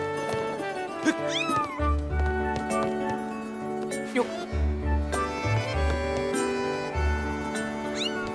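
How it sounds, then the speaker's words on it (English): Cat-monkey creature in the video game Zelda Skyward Sword gives several short, bright meows over a melodic game music score, fairly close and clear, with no talking over it. "This is some sort of cat monkey."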